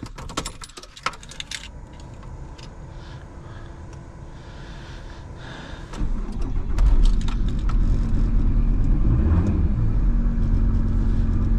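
A Volkswagen T4 with a 2.5 TDI diesel engine is started in freezing cold: a few clicks and the crank come first, then the engine catches and settles into a loud, steady idle.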